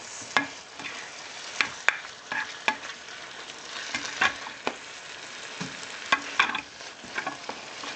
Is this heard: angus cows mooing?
no